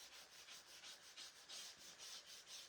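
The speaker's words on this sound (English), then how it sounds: "just kind of rough it up a little bit with that light sanding block again" A light sanding block rubbed over a waxed wood slice, faint steady back-and-forth scraping strokes in an even rhythm, close and alone.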